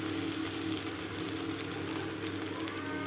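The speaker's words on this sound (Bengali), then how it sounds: "আমি পেঁয়াজটা ভেজে নিয়েছি। দিয়ে দেবো গ্রেট করা আদা" Onion and grated ginger fry in a pan with a steady, moderately loud sizzle and crackle, continuous and without any voices.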